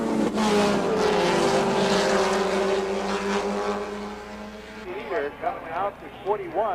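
Race cars at the 1989 SCCA National Championship roar past with a sustained, sweeping engine whine, while an announcer's voice commentates over the track noise, which fades toward the end.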